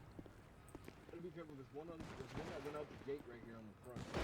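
Sniper gunfire in a futuristic video game: a couple of sharp, distant-sounding shots cracking out amid a busy background and overlapping voices of players talking.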